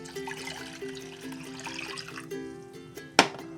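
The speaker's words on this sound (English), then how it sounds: "we're going to add that water to a saucepan" Water poured into a saucepan in a kitchen, a soft trickling flow ending with a sharp clunk near the end, quiet with a faint hum underneath.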